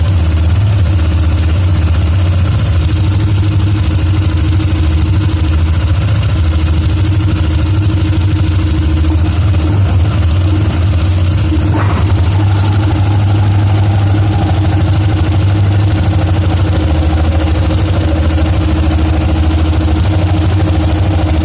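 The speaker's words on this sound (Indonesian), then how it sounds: "Nah, ini posisi sepeda motor sudah menyalakan, tinggal kita nyalakan kontak aja" A Yamaha Nmax scooter engine with a freshly fitted CVT belt idles steadily and close, a low droning hum with constant vibration and a brief rise near the middle.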